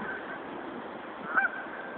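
Geese at Laurel Lake give a single short honk partway through, standing out briefly above a steady wash of outdoor background noise.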